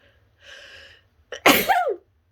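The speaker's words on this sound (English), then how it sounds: "Oh, I'm going to sneeze." A single sharp sneeze bursts out after a soft breathy intake, loud and close, ending with a brief trailing whine.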